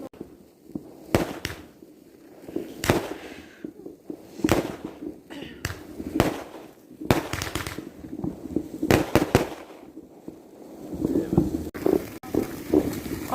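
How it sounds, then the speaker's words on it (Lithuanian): New Year fireworks crack and boom in irregular bursts across an outdoor night scene, some bangs louder and nearer, others distant, with faint voices in between. "Tuoj bus fejerverkai."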